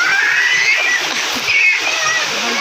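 A waterfall at an outdoor swimming spot pours in a steady, loud, close splashing rush that fills the whole short stretch, with excited voices chattering over it.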